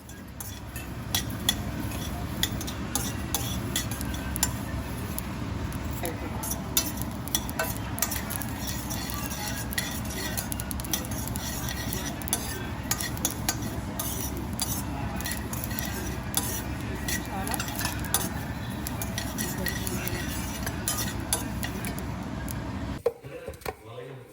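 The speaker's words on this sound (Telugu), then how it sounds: "పీనట్స్ అలాగే నువ్వులు ఇవి రెండు కూడా డ్రై రోస్ట్ చేస్తున్నాం" Peanuts and sesame seeds dry roast in a pan, with a continuous rustling rattle and frequent light clicks of stirring, close and steady, ending abruptly.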